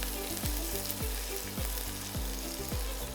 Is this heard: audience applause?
no